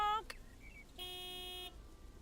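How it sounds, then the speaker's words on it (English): A big white delivery truck sounds its horn in the video game Lake: one short blast, then a sustained tonal honk of nearly a second, moderately loud against quiet game ambience. "Big, white, wobbly, and with a honking great horn."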